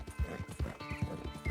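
A horse's hooves pound out a steady galloping rhythm in Red Dead Redemption 2, with heavy low thuds about every 0.4 seconds, close and prominent, with no talk.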